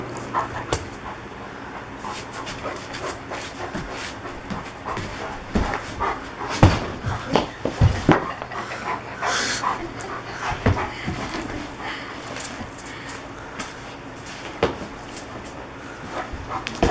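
Puppy panting and snuffling while rolling around on a soft toy, close and uneven with rustling bumps and small whimpers, faint voices in the background.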